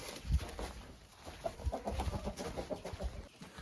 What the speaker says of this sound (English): Out of here, chickens.